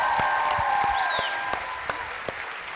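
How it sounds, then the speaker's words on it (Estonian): Applause from a session audience in Pärnu, a soft wash of clapping with a few sharper individual claps standing out, under a faint tonal hum that fades toward the end. "Teeme Haraldile suur aplausi."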